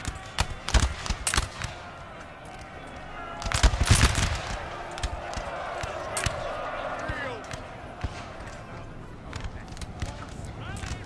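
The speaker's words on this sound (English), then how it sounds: "we'll just continue watching this Prussian gunfight with the British" Musket volleys crackle and pop in a Napoleon Total War battle between Prussian and British line infantry, scattered distant shots and bursts of massed fire over battlefield din, with a voice talking over it.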